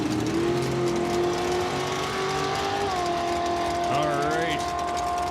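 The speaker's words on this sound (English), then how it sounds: "The dragster's got to do some work here." A dragster in bracket racing at Saskatchewan International Raceway gives a steady, loud engine drone with a rising, shifting pitch near the end, heard at a distance with a voice over it.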